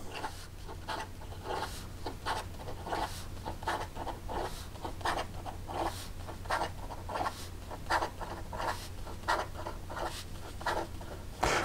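A Papier Plume The Blues flex nib pen writing quickly on paper, a soft close scratching in rapid irregular strokes, quiet and steady with no talk over it.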